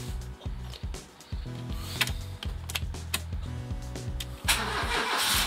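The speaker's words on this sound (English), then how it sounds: "It is time to start the car for the first time since taking it all apart." A car engine starts for the first time after being taken apart and rebuilt: the starter cranks in rapid rhythmic bursts, briefly pauses and cranks again, then the engine catches and runs with a rising roar, close and loud.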